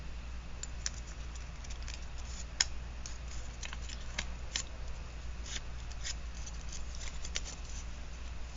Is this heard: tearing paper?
yes